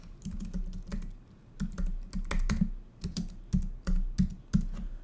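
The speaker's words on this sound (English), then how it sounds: "So let's just type in here." Typing on a computer keyboard, heard close and alone: irregular bursts of crisp keystrokes with short pauses between runs of clicks.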